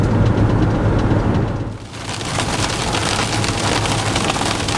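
Heavy rain drums steadily on a Coachmen Beyond camper van during a road trip, a loud, dense hiss that dips briefly partway through before resuming at full strength, with no talking.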